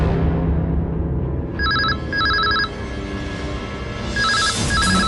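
A landline telephone rings indoors in short repeated double bursts, loud and close over a low background hum, with no talk during the rings.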